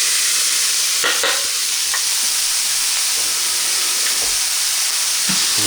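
Hot dog toppings sauté in a hot pan with a loud, steady close sizzle and occasional scraping stir sounds, with no one speaking.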